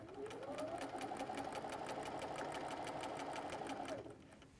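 A sewing machine stitches a cuddle throw in a steady, rapid run of needle strokes that lasts about four seconds and then stops. The sound is close and even, with no talk over it.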